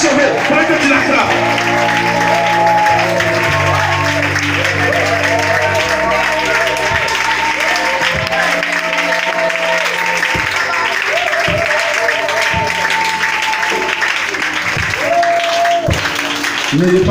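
A worship congregation claps and cheers throughout, the applause blended under loud sustained keyboard music and a speaking voice.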